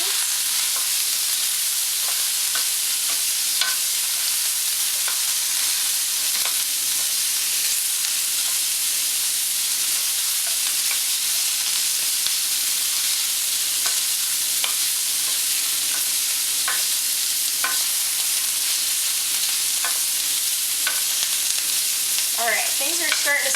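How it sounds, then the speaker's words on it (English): Water steaming off bamboo shoots in a stir fry pan, a loud continuous hissing sizzle with occasional crackles and stirring clicks, no talking. "That loud hissing noise is the water steaming off of the bamboo shoots."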